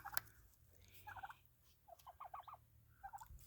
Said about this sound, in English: You can hear them talking to each other constantly.